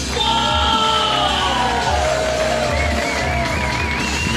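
A comedy club audience at a New York comedy festival show cheers, whoops and yells continuously, a dense loud crowd roar with music playing underneath.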